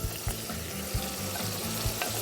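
Squid frying in a hot pan with a steady crackling sizzle, stirred with soft scraping strokes at a regular rhythm, close and fairly loud with no talk.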